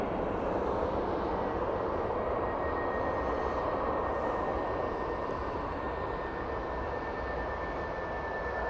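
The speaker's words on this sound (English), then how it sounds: "Bizjet's on the taxi out now." A business jet taxiing out at Manchester Airport, a steady distant turbine roar and whine holding level and continuous, fairly faint, with no talking.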